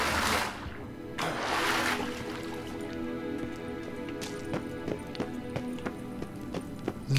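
Hooves clip-clop in a quick, steady rhythm in The Witcher 3, with a rushing swell at the start and sharp hoof strikes building through the rest.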